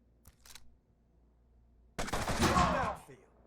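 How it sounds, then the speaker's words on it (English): Video game gunfire from Mutant Year Zero aimed at a tank, a faint click and short taps early, then a single loud, rapid burst of shots lasting about a second. "Let him shoot at the tank."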